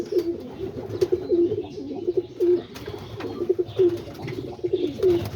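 Homing and roller pigeons coo close by in repeated low, throaty bursts that rise and fall in an uneven rhythm, with no voices.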